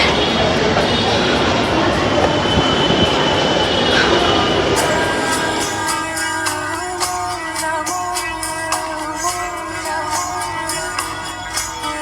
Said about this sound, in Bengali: এখন মেট্রো আসবে।